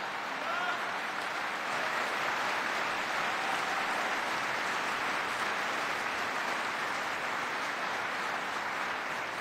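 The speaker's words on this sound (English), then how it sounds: "Clap for that, folks, because she deserves it." Crowd applause at a presidential commander-in-chief farewell event, a continuous hissing wash of many distant hands clapping, steady and fairly faint, heard alone with a thin high tone running over it.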